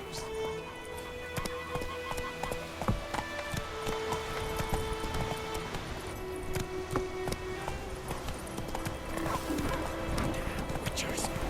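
Horse hooves clip-clopping steadily with occasional neighs and whinnies while a rider urges the horse on in The Witcher 3 game, set against busy game music and ambient effects.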